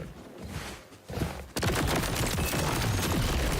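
Rapid automated gunfire from AI-controlled gunners in a space combat video game, a dense continuous barrage of shots that starts after quieter rumbling and stays loud to the end.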